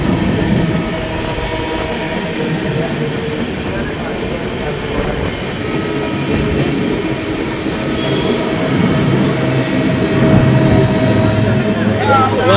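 Kolkata–Jaynagar weekly express train (13135) running through Belgharia station, a steady loud rumble of wheels and carriage movement with a rising roar near the end.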